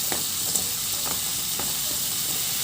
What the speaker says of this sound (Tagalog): itabi ko muna yan sa kawali at ilagay ko na rin yung sibuyas